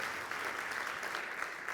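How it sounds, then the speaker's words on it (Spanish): A conference audience gives an addiction-support association a brief round of steady, fairly faint applause that continues evenly without pauses. "quiero que le deis un fuerte aplauso"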